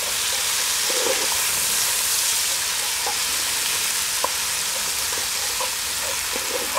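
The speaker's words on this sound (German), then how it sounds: "und rösten das ein wenig an" Ingredients roast in a little oil inside a Dutch oven, giving a steady broadband sizzle with occasional soft clicks and scrapes of stirring, no voices.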